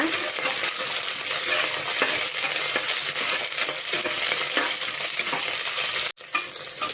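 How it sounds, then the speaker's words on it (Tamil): Chopped small onions and garlic sauté in a hot pan with steady sizzling and frying, stirred throughout, loud and close, with a brief dropout near the end and no talking. "வெங்காயமும் பூண்டும் போட்டுட்டு நல்லா வதக்கிக்கோங்க."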